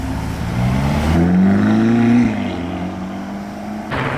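Ferrari 488 Pista supercar passing by, engine note swelling and rising in pitch to a loud peak before fading as it moves away, with no talk.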